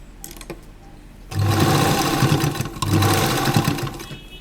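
A sewing machine stitching the inner collar of an A-line jacket dress runs in two loud, steady bursts after a quiet start, its rapid needle whir dense and close.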